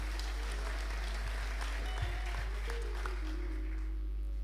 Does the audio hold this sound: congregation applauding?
yes